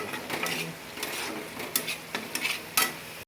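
Masala for bata fish curry being stirred and sautéed in a pan, a spatula scraping and clicking against the metal over a continuous sizzle, close up, with no talking.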